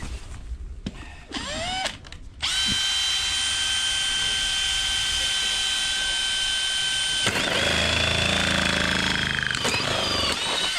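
A power drill runs steadily and loudly during blocked stormwater drain work, starting after a few short bursts and holding a sustained high whine for several seconds before changing pitch near the end, with no talk.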